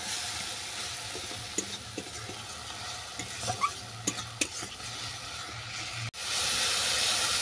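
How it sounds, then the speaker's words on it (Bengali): Ground spices such as turmeric and chili powder fry in a pan with a steady sizzle and hiss, and a spoon or spatula scrapes and knocks in scattered strokes before the sound cuts out and a brighter hiss rises at the end. "এই সমস্ত মশলা ভালো করে কষিয়ে নিচ্ছি।"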